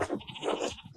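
Sheep bleat in the video game Pentiment, a close, wavering run of several overlapping bleats in quick succession with no talk.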